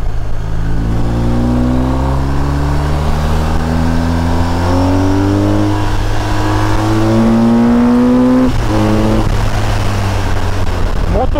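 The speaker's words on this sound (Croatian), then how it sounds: "motor poludi, bukvalno poludi na bukvalno svim nivoima obrta" A 2021 BMW R1250RT police motorcycle being ridden, its engine rising through revs in loud, continuous climbing sweeps, shifting up and pulling again, with wind noise and no voices.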